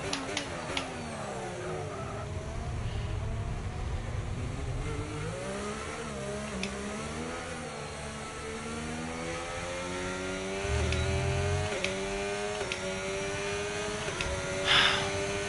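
Engine noise from an F1 car in the F1 25 video game, with a high revving whine that climbs and drops through gear changes over a continuous drone, a second car's tone mixed in, steady and fairly loud.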